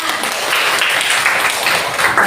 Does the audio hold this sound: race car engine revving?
no